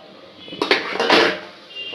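Spicy aloo gajar sabzi is spooned from the cooking pot into a serving dish, giving a few short clinks and scrapes of utensil against cookware, close and brief.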